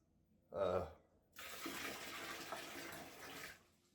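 Water scooped out of a planted aquarium with a jug during maintenance, a short splash followed by a couple of seconds of steady pouring and trickling water, close and fairly quiet.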